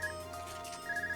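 An Arcus device rings in Trails of Cold Steel, a steady electronic ringtone tone looping over soft game music, without speech.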